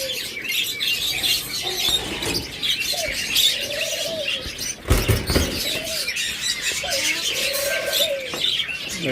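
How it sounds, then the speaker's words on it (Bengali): Caged budgerigars chirp, warble and coo steadily nearby, a busy overlapping chorus of short calls with no talking. "এরপর যদি বাজরিগার পাখি দেখাই"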